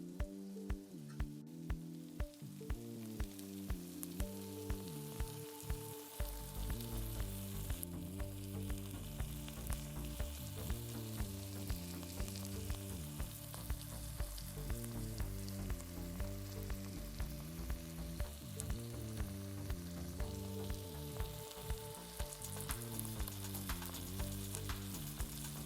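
A pan of potato bhaji fries with a steady, gentle sizzle while it is stirred, faint scrapes and ticks dotting the crackle, under continuous soft background music.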